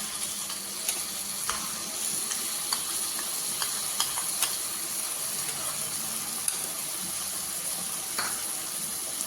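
Yogurt and spice mixture frying in a pan with whole spices for shahi paneer: a steady close hiss and sizzle throughout, broken by scattered small clicks and light stirring taps.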